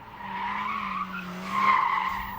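Cars slide sideways in a Japanese drifting session, tires squealing in a sustained, wavering screech that swells louder toward the end over a low engine hum.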